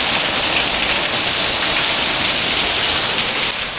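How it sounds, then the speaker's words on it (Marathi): Heavy rain pours outside in a constant, hissing downpour, loud and unbroken, with no one speaking. "बाहेर खूप जोरात पाऊस चालू आहे"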